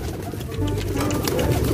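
Pigeons of the blorok madu colour coo in soft low bursts close by, partly under a voice and background noise.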